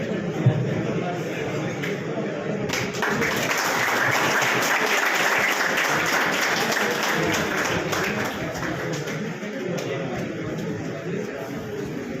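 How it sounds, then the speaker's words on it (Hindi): Sustained audience applause fills a hall at a student felicitation event in Hanumangarh Junction, dense and loud clapping that runs for about twelve seconds after a short spoken prompt, with crowd shuffling underneath. "एक बार तालियां बजा दीजिए"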